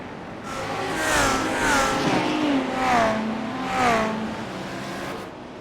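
GT3 race car in iRacing at the Red Bull Ring, engine note rising and falling through several gear changes as it approaches and passes, loud and continuous with no talk over it.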